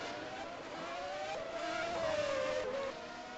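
Race cars run at Spa in the Belgian round of Motorsport Manager, with a steady engine drone and one rising-then-falling whine as a car sweeps past mid-distance, loud and continuous throughout.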